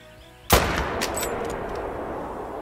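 One loud rifle shot goes off in theHunter: Call of the Wild while hunting a bobcat, a sharp close crack followed by a long rolling echo that fades gradually with faint game ambience underneath.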